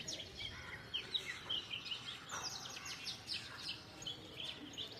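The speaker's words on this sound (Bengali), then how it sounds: "বারবার পাখির গানগুলো মুগ্ধ করতেছে। কি পাখি? দোয়েল পাখি।" An oriental magpie-robin sings outdoors in a series of varied, bright chirps and whistled phrases at moderate distance, over a steady background hum.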